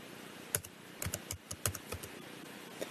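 Scattered, close keystrokes on a computer keyboard tap out a short entry, each click crisp and distinct against a faint hiss with small gaps between them.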